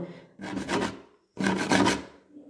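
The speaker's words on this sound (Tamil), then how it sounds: "யாரோ நோட்டில் கிறுக்கிற மாதிரியான ஒரு சத்தம்" A scribbling-on-a-notebook sound effect: two short, scratchy bursts of pen or pencil rasping across paper, separated by a brief pause, close and clear with no voices.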